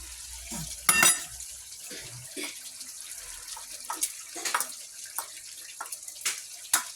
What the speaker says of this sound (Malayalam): ഇനി നമുക്ക് ഇതിൽ ഇലകളും ഇതൊക്കെ ബേ ലീഫും മസാലയൊക്കെ മിക്സ് ചെയ്തിടാം